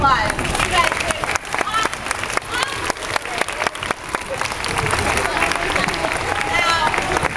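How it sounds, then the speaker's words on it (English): An audience of young story writers and others breaks into loud, sustained applause with scattered cheers and crowd chatter, the clapping dense and continuous from start to finish. "Let's give you all a round of applause."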